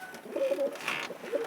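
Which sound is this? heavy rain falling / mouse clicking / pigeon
pigeon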